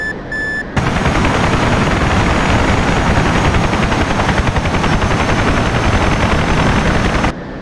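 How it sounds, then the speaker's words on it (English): A helicopter approaches at about 350 feet in the DCS World combat flight game, a loud steady rotor chop with a pulsing thrum that holds constant from the start of the clip, cut off abruptly before the end. "Helicopter's coming in at 350 feet."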